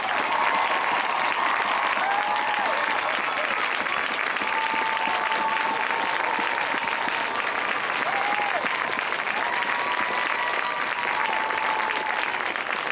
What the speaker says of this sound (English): please give one more round of applause to all of the Hall of Fame inductees for 2015